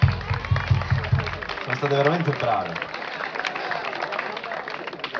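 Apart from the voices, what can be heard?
audience applause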